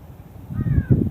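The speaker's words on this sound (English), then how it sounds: "Oh, there's a crow." A crow calls outdoors on a windy day, a single drawn-out caw rising over rustling wind and low rumble, fairly close.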